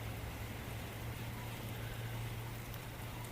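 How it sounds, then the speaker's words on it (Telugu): Steady early-morning rain falls in Chiang Mai, an even, continuous hiss of drops with a faint low hum underneath, no voices and no change in level. "మార్నింగ్ 5 o'clock వచ్చి వర్షం పడుతుంటే రికార్డింగ్ చేస్తున్నా"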